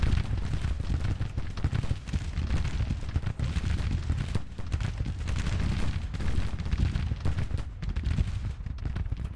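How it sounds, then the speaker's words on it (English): Continuous massed rifle fire from a brigade in the Civil War strategy game Grand Tactician: The Civil War, a dense rolling crackle of volleys mixed with deep booms, steady and loud throughout. "I want my brigade shooting at these guys"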